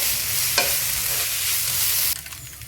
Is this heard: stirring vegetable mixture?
yes